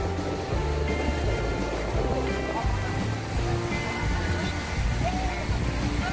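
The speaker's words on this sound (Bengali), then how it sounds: "ঢেউ দেখুন একবার, কত সুন্দর এবং কত জোরে ঢেউ এখান থেকে দেখা যাচ্ছে।" Sea waves break at Mandarmani beach near the estuary end, a continuous loud roar of surf with wind noise and no gaps.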